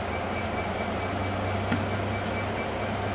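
Northern Rail class 322 electric multiple unit 322484 at Doncaster, a steady rumbling drone of the train, loud and continuous with a faint squeal near the middle, no voices.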